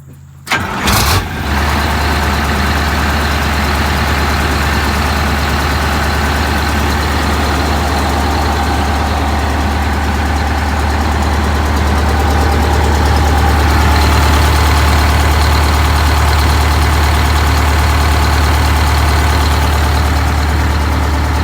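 An MCI bus engine cranks briefly, catches with a loud burst, then settles into a steady, deep, close diesel idle that runs unbroken with no talking.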